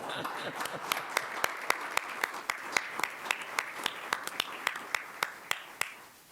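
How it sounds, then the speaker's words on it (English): At a school board meeting, an audience claps in appreciation, with sharp individual claps standing out in a loose rhythm over a softer spread of applause that tapers off at the end. "So we offer up an applause for all of you."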